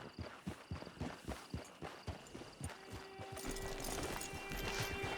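Horse hooves clip-clop at a steady walking pace in the video game Red Dead Redemption 2, close and fairly quiet, while a low ambient wash rises beneath them toward the end.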